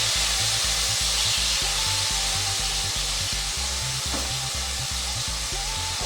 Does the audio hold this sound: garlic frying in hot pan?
yes